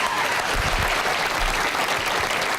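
Teachers packing a Senate Education Committee meeting applaud, a dense, steady burst of clapping from a crowd filling the room throughout.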